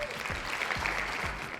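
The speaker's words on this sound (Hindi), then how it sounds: "एक बार फिर से तालियां।" Applause from a television studio audience, a dense, steady clatter of many hands clapping at close range, sustained throughout with no voices over it.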